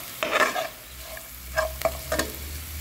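Spices with cumin powder, Kashmiri chilli powder and salt are stirred in a frying pan for a vegetable shikampuri kebab, making a few short scraping strokes over a soft sizzle.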